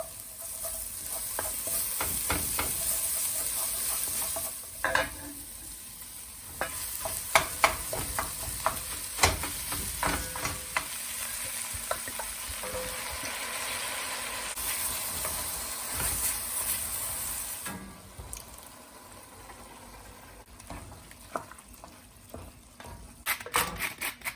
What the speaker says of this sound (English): when you're cooking with tomato paste, you always want to cook it out just a little bit for like a minute or two until it turns kind of a brick red